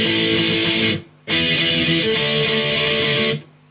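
Electric guitar strumming punk chorus chords with a quick dead stop, two bursts of driving overdriven strums split by a brief silent gap, loud and alone.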